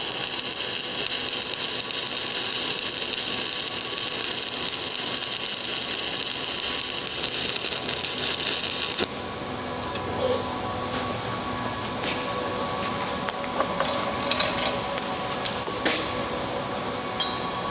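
Overhead stick welding arc as an electrode rod slides along a bevel edge, a steady close crackling hiss that runs continuously and drops slightly in brightness partway through.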